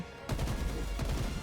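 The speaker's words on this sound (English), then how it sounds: "Battle rifle sounds" Halo battle rifle gunfire from a video game, rapid repeated shots opening abruptly after a brief quiet moment and continuing in a dense loud burst, with no voices.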